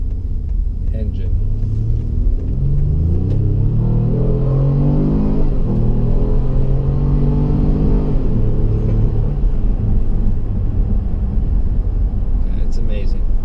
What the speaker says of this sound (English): This engine is amazing.